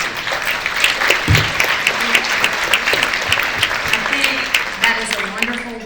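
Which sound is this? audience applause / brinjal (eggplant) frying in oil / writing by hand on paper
audience applause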